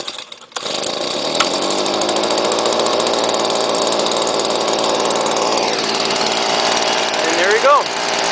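A small four-year-old gas engine, choked and primed, starts on the first pull and runs steadily, a loud close buzzing drone that holds for several seconds before dropping off at the end.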